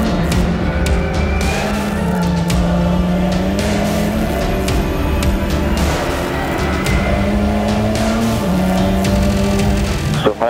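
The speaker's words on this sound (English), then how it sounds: "Cars screaming down into turn 3." TCR touring race cars, a Cupra among them, scream into a corner at the Slovakia Ring, with loud sustained engine howls shifting pitch and overlapping as the pack brakes and turns in, close and continuous throughout.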